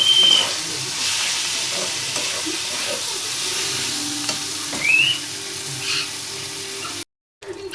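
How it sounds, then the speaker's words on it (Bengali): Pointed gourd (potol) frying in a pan gives a steady close sizzle while being stirred, with brief scraping and clinks and a short gap near the end. "এগুলো একটু ভাজা ভাজা করে নিতে হবে আরেকবার নাড়াচাড়া করে দেবো যাতে তলে লেগে না যায়"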